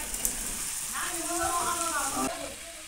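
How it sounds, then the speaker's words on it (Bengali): Cut potatoes fry in oil with turmeric and salt in a village kitchen, giving a soft, steady sizzle underneath a voice. "তো এখন আলুগুলো একটু ভেজে নিব, ভেজে রান্না করলে তরকারি একটু স্বাদ হয় খেতে।"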